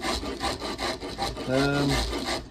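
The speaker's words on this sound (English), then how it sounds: "So I just take the rasp and cut in." A wood rasp cuts into a wooden guitar neck in rhythmic scraping strokes, close and fairly loud, with a brief voiced hum partway through.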